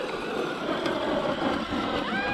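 Arrma Vorteks 3S and Traxxas Rustler 4x4 RC cars drag racing side by side outdoors, a loud, steady rushing roar of electric motors and tires, with a whining pitch rising sharply near the end.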